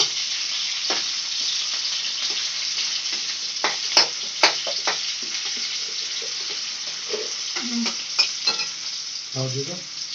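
Chopped onions fry in a wok with cumin, a quiet steady hiss of oil under intermittent scrapes and knocks of a stirring spoon, ending with a short burst of clatter.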